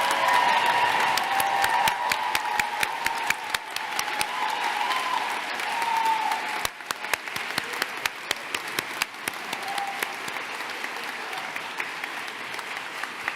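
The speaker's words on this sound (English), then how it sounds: "I would like the 107 graduates to stand and be recognized by the audience with a big round of applause" Graduates at a UCSF School of Dentistry commencement are cheered by the audience with sustained applause. Dense clapping runs steadily for about 13 seconds, with a few whoops rising over it and a brief dip around the middle.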